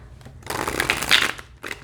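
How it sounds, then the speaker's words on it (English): A quick riffle of Edgar Allan Poe tarot cards being shuffled, a short burst of flicking and slapping, then a brief second touch. "let's go ahead and shuffle"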